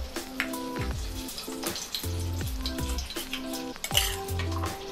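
Whole spices (cloves, black pepper, black cardamom, cinnamon, bay leaves) crackle and sizzle in hot oil, with repeated clinks and scrapes of a spoon on the pan throughout.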